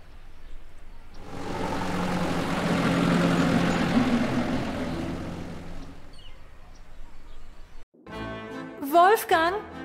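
Passenger plane engine roars in Gabriel Knight: Sins of the Fathers 20th Anniversary Edition, as Gabriel flies to Munich, swelling to a loud steady drone, then fading out before a voice speaks.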